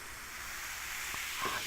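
Stout beer poured into a glass, fizzing with a soft continuous hiss of foam, faint and close, with a couple of small clinks.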